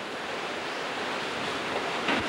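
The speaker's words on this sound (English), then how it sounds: "These gusts are just incredibly strong." Strong hurricane wind gusts roar in a broad, rushing blast, buffeting close by and swelling slightly near the end, during Hurricane Wilma.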